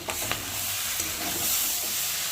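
Malabar spinach and shrimp hiss and sizzle in a pan while being stirred, a soft steady frying sound broken by a few light utensil clicks near the start.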